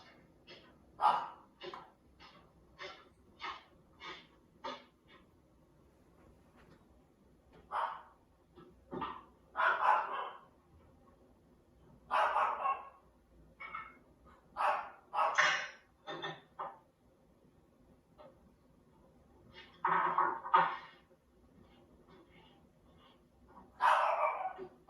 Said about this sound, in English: Not only did the dog bark so loud, but it looked as if he was seeing some entity approaching him